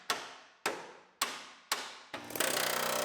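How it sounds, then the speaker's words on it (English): A pneumatic air breaker cuts into a steel car body panel while trimming a 2015 chassis for a 1965 Mustang project, giving four sharp, evenly spaced metallic strikes and then a rapid, continuous hammering burst, loud and close. "Use our breaker to separate the top."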